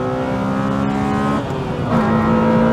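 A Honda Civic Type R EK9 with its 1.6 litre engine pulls hard under acceleration, a loud steady engine drone with rising harmonics and a brief dip as it shifts gear, then climbs again.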